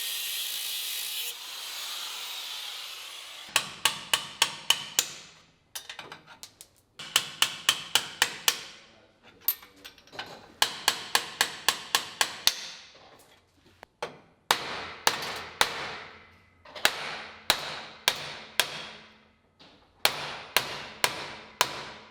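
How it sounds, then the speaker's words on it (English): Repeated hammer blows against metal while breaking off a part during fabrication of a semi-peripheral-port intake manifold for a three-rotor Mazda RX-7; sharp, loud, closely spaced strikes in quick bursts separated by short pauses, with no talking. "So you use a hammer, Rob."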